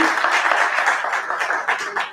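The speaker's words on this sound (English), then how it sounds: "A round of applause for mushroom." An audience applauding at an annual in-house research review and planning meeting: a dense, even burst of many hands clapping, close and loud, with no voices over it.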